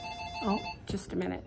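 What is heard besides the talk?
telephone ringing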